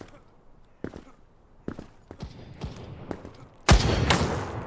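Gunfire in the Krunker.io shooter game: several sharp, separate shots spaced through the stretch, then a louder burst of rapid fire at the end, with faint talk.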